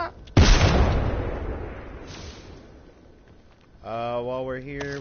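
A frag grenade detonates in Apex Legends with a single loud, close boom that rolls off into a fading rumble over a few seconds, and a voice speaks near the end.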